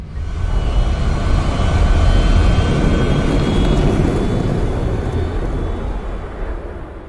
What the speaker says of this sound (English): Her ship landed.